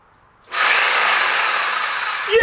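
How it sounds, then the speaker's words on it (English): A Sawzall reciprocating saw, plugged into a cabin's newly connected electrical outlet, kicks on after half a second of quiet and runs loud and steady at full speed, buzzing close by until it cuts off at the end. "Plugged in a Sawzall to the plug."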